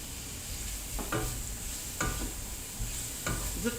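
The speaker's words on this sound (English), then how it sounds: "There you go, we're mixing that together." A spoon scrapes and stirs seasonings with fresh thyme in a pan, giving several distinct scraping strokes at an irregular rhythm over a soft, steady sizzle, close and fairly quiet with no talking.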